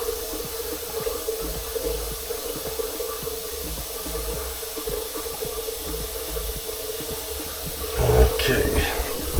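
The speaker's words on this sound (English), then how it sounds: "The water is running up there" Water running steadily from a tap during drain replacement work, a continuous rushing hiss that stays level throughout, with a brief clatter near the end.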